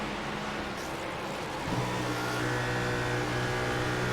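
A NASCAR race car engine in the iRacing video game at Kentucky drones steadily, then shifts pitch and rises in tone partway through, a loud continuous whine with no talk.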